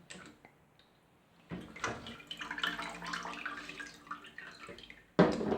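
Tap water runs through a Brita Maxtra filter cartridge over a draining board, a broken, splashing pour that starts abruptly, sustains for a few seconds, then ends in a brief louder burst.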